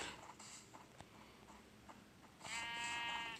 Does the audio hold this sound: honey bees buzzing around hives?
no